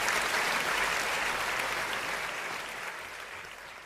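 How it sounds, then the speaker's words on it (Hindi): Audience applause at a Hindi kavi sammelan, greeting poet Atul Kanak as he comes on stage: dense, steady clapping from a large crowd that slowly fades over a few seconds, with no talking. "एक बार जोरदार तालियों के साथ"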